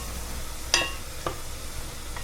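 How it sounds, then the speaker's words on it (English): Onions sautéing in peanut oil in a saucepan over high heat, a soft continuous sizzle with two brief utensil taps or stirs. "we're gonna saute our onions for about 7 to 10 minutes until browned"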